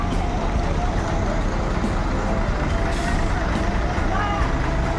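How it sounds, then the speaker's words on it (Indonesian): Intercity buses bound for Ranah Minang idle and pull out of Kampung Rambutan terminal, a loud continuous diesel rumble with traffic noise and a faint hiss, while someone talks over it. "Sudah standby bus-bus yang akan menuju Ranah Minang."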